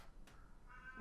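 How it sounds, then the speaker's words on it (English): A cat meowing faintly in a room, a single short soft call, distant and quiet against low background hum. "my cat woke up"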